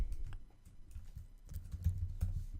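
Computer keyboard typing in a quiet room, a soft patter of uneven key clicks running continuously with small bursts of faster strokes.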